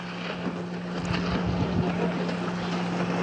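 A speedboat engine on a lake drones steadily at a distance, a low hum that swells slightly as the boat approaches, with faint wind noise over the microphone.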